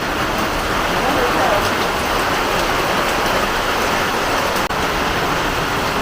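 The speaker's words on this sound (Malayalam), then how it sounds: "ഇങ്ങനെ മഴ പെയ്ത് നിൽക്കാതെ പെയ്തു കഴിഞ്ഞാലാണ്" Steady monsoon rain falls in Wayanad, Kerala in an even, dense patter, loud and continuous, with a single sharp tap near the end.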